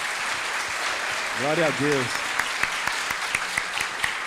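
Church congregation applauding during a worship service, a steady dense patter of clapping running throughout, with a voice speaking briefly over it near the start.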